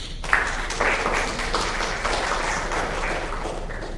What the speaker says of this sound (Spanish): Recibamos al profesor con un fuerte aplauso